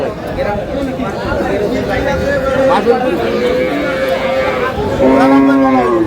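Cattle mooing at a busy livestock market in Aftabganj, Dinajpur, where dairy cows and calves are traded, with repeated lowing calls over a steady crowd hubbub and close chatter of people talking.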